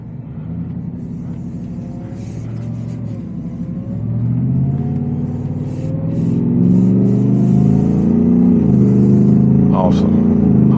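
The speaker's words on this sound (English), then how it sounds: "get more supercharger whine in this than you do in like the Raptor R" A 785 HP Shelby Super Snake truck, red with white racing stripes, revs under load, its supercharger whine rising over a deep exhaust rumble that swells louder toward the end, with someone talking over the engine throughout.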